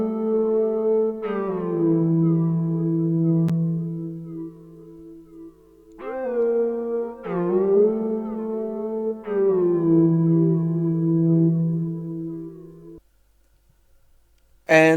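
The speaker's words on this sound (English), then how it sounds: "for that I used a synth flute from Purity" Synth flute lead from Purity layered with a second Xenology synth lead, playing slow, breathy held notes with gliding attacks in a sparse cinematic R&B melody, phrases separated by short gaps and a brief sound right at the end.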